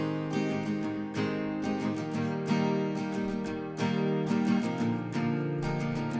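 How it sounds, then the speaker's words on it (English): A simple acoustic guitar track with a doubled part, strummed chords ringing steadily with light body, clean and close with no voices. "It's a pretty simple guitar sound."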